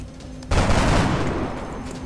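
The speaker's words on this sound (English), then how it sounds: "We're gonna go ahead and shoot at you." Sustained burst of gunfire in the XCOM Long War strategy game, starting abruptly and running as a loud, dense volley of overlapping shots for well over a second before tailing off under a steady game-ambience hum.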